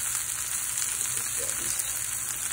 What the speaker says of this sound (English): And as soon as that oil touches it, they start frying up again.